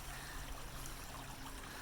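A creek running down toward the ocean at Spanish Banks, a steady close wash of flowing water with no pauses, filling the short stretch on its own.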